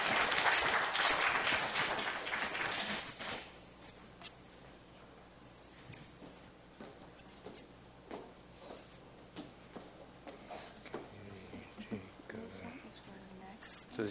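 A burst of audience applause at a health and welfare forum in Taiwan welcoming a deputy director, loud for about three seconds before dying away into a quiet room with scattered small rustles and shuffles.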